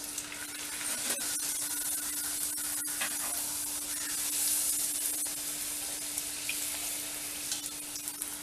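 Tomato poori fry in well-heated oil, a continuous close sizzle with scattered sharp pops and crackles over a faint steady hum, with no voices.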